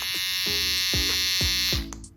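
Gamma+ Protégé hair trimmer running alone with a steady, close, high-pitched electric buzz, broken by a few soft low clicks, then switched off near the end.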